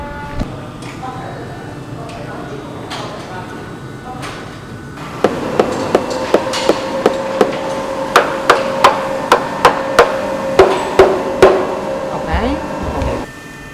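A Parmesan cheese-cleaning machine hums steadily in a factory, then a regular series of sharp mechanical clacks starts up and repeats about twice a second over the drone.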